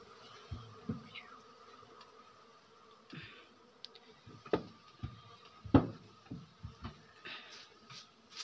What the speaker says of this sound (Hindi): ये देख तेरे मधुमक्खियाँ हैं इसमें